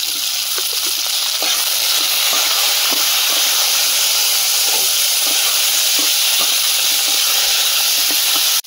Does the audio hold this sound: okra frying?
yes